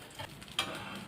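Potato-stuffed wheat flatbread sizzling on a hot pan as it is flipped, giving a steady close frying hiss with a small bump partway through.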